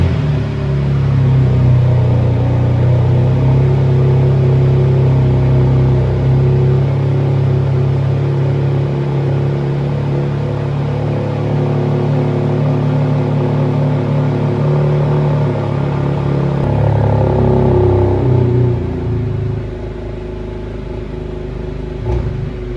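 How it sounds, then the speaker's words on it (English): BMW X3 M Competition SUV engine idling after startup, a steady deep exhaust rumble with low droning tones, fairly loud and close, easing off slightly near the end. "let's crank up the car, see how the exhaust sounds like"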